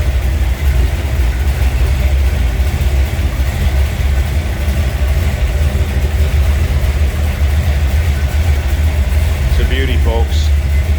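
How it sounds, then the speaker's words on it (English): A 1962 Chevrolet Biscayne with its 409 V8 idling through a Flowmaster exhaust, giving a steady, deep, even rumble that holds throughout, with a voice speaking over it. "Flowmaster exhaust. That's why this car sounds so good."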